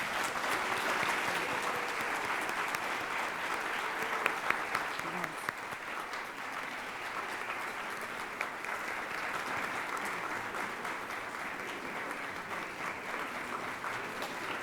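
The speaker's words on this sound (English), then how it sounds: "Let's give them a round of applause." A civic forum audience applauds the panelists and host of a civil rights discussion, a sustained, even crowd clapping that runs for about fifteen seconds with a few louder claps and faint voices mixed in.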